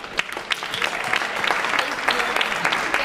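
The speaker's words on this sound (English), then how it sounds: "Yes, we already clapped" An audience applauds panelists at a talk, steady dense clapping from many hands filling the room, loud and continuous for a few seconds with no voices over it.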